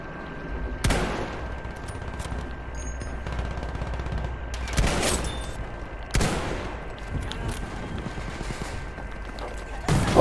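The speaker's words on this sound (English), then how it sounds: "Bolt action rifle." Bolt action rifle firing in Battlefield V, several sharp close cracks spaced seconds apart over constant battlefield noise and distant gunfire.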